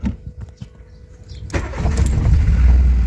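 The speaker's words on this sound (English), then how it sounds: "Yeah, the car starts" A VW Citi Golf Mk1 engine cranks and catches after a quiet lead-in, rising into a loud, steady running rumble close by.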